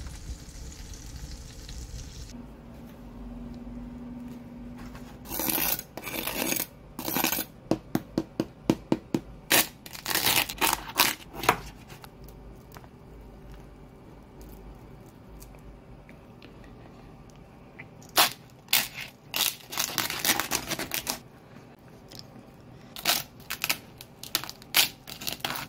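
Loud, crisp crunches of crispy pork belly porchetta skin, a long run of close, sharp cracking bites with a brief pause midway, then a second burst of crackling chews, with no talking.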